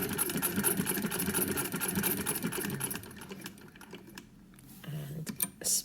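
A sewing machine with a binder foot attachment and bias gauge stitches in a steady, close, rapid whirring run that stops about halfway, leaving a quiet pause before short bursts of stitching resume near the end.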